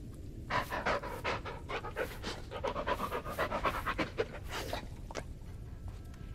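Heavy, rapid panting from a dog in the Blair Witch video game, close and continuous, with quick rhythmic breaths that swell and ease over several seconds.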